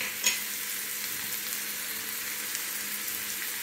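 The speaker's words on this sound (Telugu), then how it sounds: "ఉల్లిపాయ, పచ్చిమిరపకాయ వేసుకోగానే మనం కొంచెం పసుపు, తొందరగా వేగిపోద్ది అనమాట ఉల్లిపాయలు." Onions and green chillies fry in a pan for an Indian fenugreek leaf and tomato curry, giving a steady, close, even sizzle that continues throughout, with a brief clink of stirring near the start.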